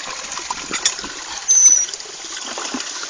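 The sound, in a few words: pouring water with a dipper (tabo) for bathing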